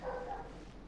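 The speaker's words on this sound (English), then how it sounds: "Sorry if you hear dogs barking." Dogs bark in another room, a quick muffled yip or two that sounds distant and faint through the walls, with no talking.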